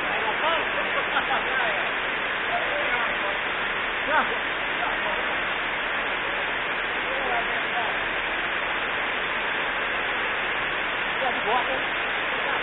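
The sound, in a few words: floodwater flowing down a street like a river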